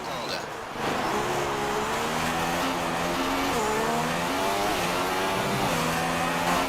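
Formula One race cars in the F1 2016 racing game, a steady high engine whine with shifting gear tones holding loud throughout, heard close from onboard.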